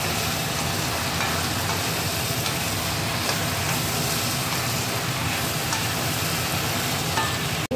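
Malabar spinach stems sizzle loudly in oil in a pan while being stirred, a continuous close frying hiss with no talk over it.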